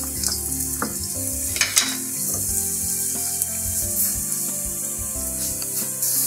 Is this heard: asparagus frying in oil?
yes